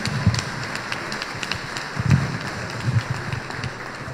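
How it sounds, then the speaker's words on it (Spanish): Outdoor crowd applause for a philharmonic band at a religious festival, a loose patter of many hands clapping at moderate distance with a few sharper bursts. "Que se escuchen los aplausos para las y los integrantes de la banda"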